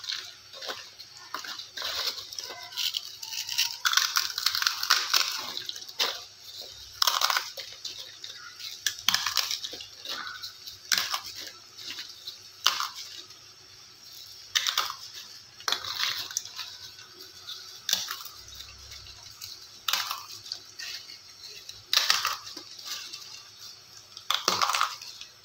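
Roasted, fried dried nalya tubes crushed by hand for a quick chutney, giving repeated crisp crunching and crackling bursts at close range, with no talking.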